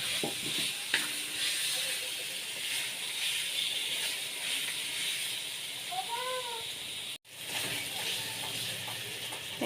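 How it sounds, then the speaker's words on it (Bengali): Boiled potatoes being sautéed with spices in a pan for an egg curry, giving a steady close sizzle with faint stirring scrapes throughout, no talk. "এই যে আলু দিয়ে মশলা দিয়ে কষানো হয়ে গেছে।"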